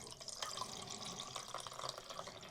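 Film developer is poured into a developing tank, making a faint, continuous liquid trickle and splash for a couple of seconds with no one talking.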